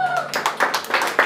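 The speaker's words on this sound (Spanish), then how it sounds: "Un aplauso para ella muy fuerte." Guests at a quinceañera with a mariachi band clapping in a loose, uneven rhythm, a handful of distinct claps close by over a brief moment, with a faint tone fading at the start.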